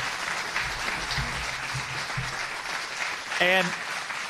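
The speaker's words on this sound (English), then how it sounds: "A round of applause for both candidates tonight." An audience at a mayoral debate applauds the two candidates, a dense, even clapping that fills the hall, with a brief voice breaking through near the end.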